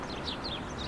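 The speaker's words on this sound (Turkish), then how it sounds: "Bak kuş seslerini duyuyor musunuz?" Birds chirp faintly outdoors in a quick burst of high, thin calls over a soft steady background.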